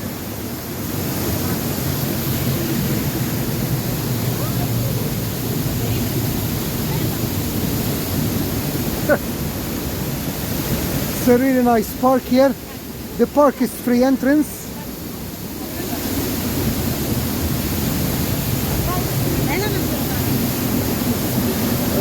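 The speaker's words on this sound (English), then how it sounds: "Now I am behind the waterfall." Loud, constant roar of rushing water from behind the Edessa waterfall in a Greek park, a thick broadband wash that fills the whole span while someone speaks briefly over it.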